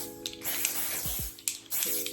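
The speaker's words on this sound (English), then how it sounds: "I'm going to spray just a little bit." Several short, close hissing spritzes come from a Dior Airflash primer and setting spray misted during a makeup application, with brief pauses between the bursts.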